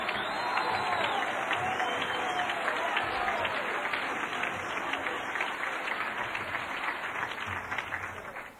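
A banquet audience bursts into sustained, dense applause that stays loud and even throughout, a full room of hands clapping together before it tapers at the very end.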